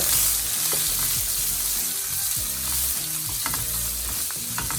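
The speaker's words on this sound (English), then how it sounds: "we're going to add a generous amount of pepper. And we're going to give that a stir" A pan of Goan fish curry paste with pepper fries and sizzles steadily while being stirred, the scraping strokes coming through as irregular clicks and scuffs over the continuous hiss, loud and close, with no talking.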